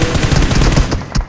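Automatic gunfire in a 2v2 video game match: a loud, dense run of rapid shots firing almost without pause, with a last short burst just before it ends.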